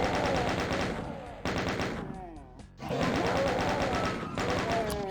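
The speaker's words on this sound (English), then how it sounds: "Yeah, the chain gun is great." Rapid, continuous chain gun fire from the video game Doom, loud and close, in two long bursts separated by a brief pause, with fainter mechanical sounds in the gap.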